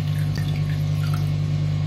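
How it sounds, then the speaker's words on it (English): Liquid drained off canned ant larvae, trickling and dripping into a container in a short, steady pour, close by, over a constant low hum. "I'm going to pour the juice into here because we don't"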